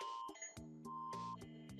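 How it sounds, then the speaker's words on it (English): A phone alert sounds for a stay-at-home order, two repeated bursts of layered electronic beeping tones heard faintly alone. "So do you hear that beeping?"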